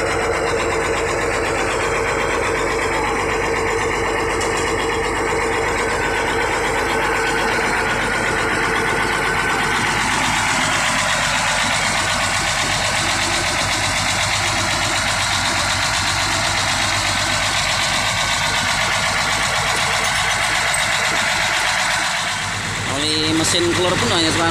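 A continuous, steady engine idle rumbles throughout with a mechanical knocking texture, loud and close, with no pauses.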